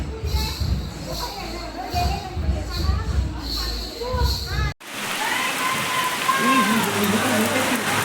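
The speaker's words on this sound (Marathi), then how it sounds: "मस्त पाऊस भेटला या लोकांना" Rain pours down steadily at a Ganpati immersion in Guhagar, a dense close hiss beneath people talking, the scene changing abruptly partway through.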